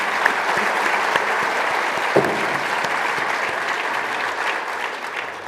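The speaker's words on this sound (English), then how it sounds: "Let's give our panel one more round of applause for that great conversation." Audience applause for a conference panel on modernizing Toronto Pearson airport, a dense, even patter of many hands clapping at moderate volume for several seconds, with no talking over it.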